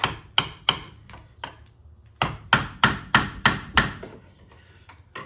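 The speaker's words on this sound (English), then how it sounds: "Now we need to bust that clamp there without touching the hot end." Hammer blows busting off a tie rod boot clamp on a VW Jetta, sharp metallic strikes close by, a few spaced hits then a quicker run of about six in a row.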